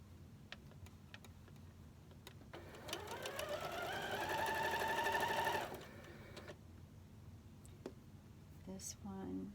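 Sewing machine stitching quilt rows of 2.5-inch squares together, a steady mechanical whir that builds for a few seconds, runs continuously and then stops, with light handling clicks around it.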